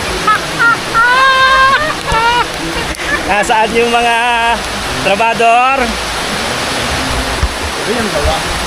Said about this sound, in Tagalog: tumuloy na ang ulan.